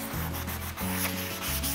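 Hand-sanding with 220 grit sandpaper on a painted furniture piece gives a continuous close, loud rasping rub in quick back-and-forth strokes, with no talk.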